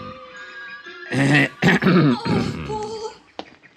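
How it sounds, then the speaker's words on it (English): A man's harsh, rasping cough in an old-time radio detective drama, a few loud throaty bursts after a quiet lead-in, ending with a short sharp catch. "My cough must have been pretty frightening"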